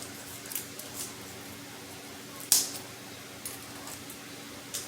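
Dead fronds ripped off an indoor areca palm, a quiet room with a few faint rustles and one sharp, brief tearing crackle near the middle, then small scattered rustles.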